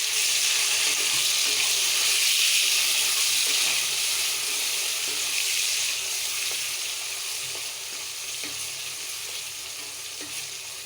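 A steady, loud sizzle of tomatoes frying with browned onions in a pan, broad hissing crackle filling the space, easing slightly in volume toward the end, with no talking.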